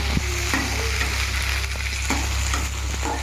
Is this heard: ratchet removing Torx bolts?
no